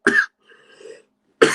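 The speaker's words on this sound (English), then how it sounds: "It was that funny. It sent me coughing." One person coughs close to the microphone, two sharp bursts separated by a short pause with a faint throaty rasp between them, with no other sound around.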